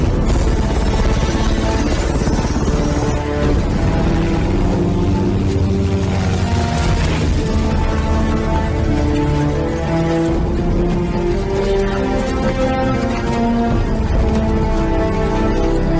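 Helicopter lifting off in a film scene, a loud dense rotor roar mixed with a dramatic soundtrack and impacts, sustained for the whole stretch without a break.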